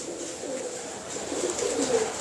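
Teddy pigeons kept by Ch Tauseef in Wah Cantt coo in low, soft, rolling murmurs that swell slightly toward the end, close by and continuous, with no talk.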